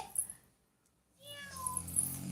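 A voice imitates a cat's meow, a single drawn-out wavering cry after a brief pause, close and soft.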